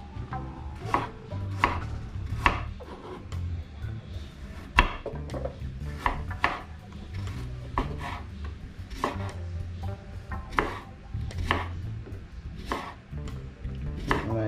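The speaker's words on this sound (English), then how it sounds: "cut up some carrots" Carrots are chopped with a knife on a board for a Jamaican-style conch and bussu soup, giving a steady series of sharp, close knocks at an uneven rhythm over low background rumble, with no talk.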